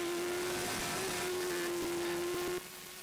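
A racing motorcycle at the Isle of Man TT tears past at over 120 mph, a loud sustained engine drone holding a steady high pitch before the sound drops off sharply near the end.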